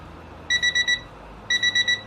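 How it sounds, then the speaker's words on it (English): A cooking timer beeps beside steaks being grilled, two bursts of four quick, bright electronic beeps about a second apart, loud and close over a faint background hum. "that's the timer for the second 5 minutes"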